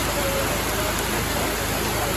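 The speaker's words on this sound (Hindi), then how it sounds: "हम देख सकते हैं कितनी तेज़ बारिश हो रही है" Heavy rain in Ooty, India, pours down in a dense, unbroken hiss, loud and close.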